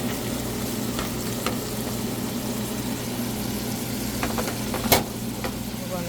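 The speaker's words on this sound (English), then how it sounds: "I'm going to mix everything." Garlic and red onion frying in a pan as they are stirred, a steady sizzle with occasional scraping clicks and a louder knock near the end.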